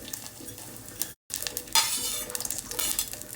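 Urad dal, fenugreek, cumin and dried chilli crackle in hot tempering oil while a spoon scrapes and clinks against the pan, with bright spitting bursts after a momentary dropout.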